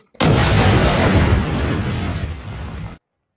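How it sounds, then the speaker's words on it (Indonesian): A sudden loud blast bursts in, followed by a heavy rumbling roar that slowly fades before stopping abruptly. "ledakan terjadi"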